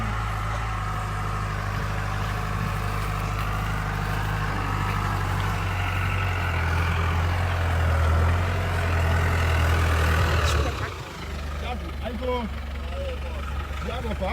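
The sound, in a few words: tractor engine preparing farm land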